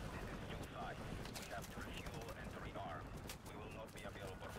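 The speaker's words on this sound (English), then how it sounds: "Dear God, they're still shooting at this." Steady gunfire from a Call of Duty: Modern Warfare Remastered battle, sharp cracks repeating over a constant dense roar, distant and fairly quiet, with a voice talking over it.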